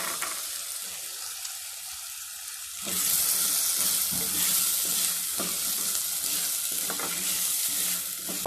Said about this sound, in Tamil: இப்போ நம்ம எடுத்து வச்சுருக்க பட்டாணி ஆட் பண்ணிக்கலாம்.